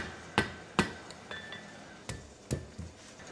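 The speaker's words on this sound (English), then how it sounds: "I'm using a rawhide mallet. This will protect the features that I've forged." A rawhide mallet strikes forged iron shaped into a ram's head poker, six or so sharp ringing blows at an uneven pace with a slight metallic ring trailing each hit.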